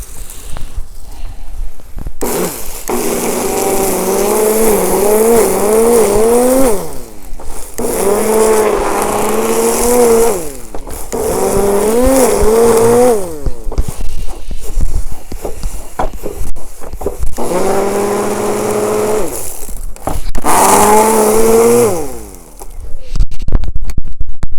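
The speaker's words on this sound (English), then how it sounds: "use my whippersnipper to just break them down into a finer, almost powder-like material" Whippersnipper (string trimmer) shredding a pile of garden leaves into fine powdery mulch, its whining engine rising and falling in several long bursts separated by brief pauses, loud and close throughout.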